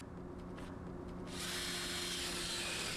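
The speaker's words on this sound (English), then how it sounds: "Drill 2 holes on the underside and 4 holes on the top side of the pipe." A power drill bores holes into double-wall plastic pipe, a faint hum that jumps to a steady, louder whirring grind partway through and keeps going to the end.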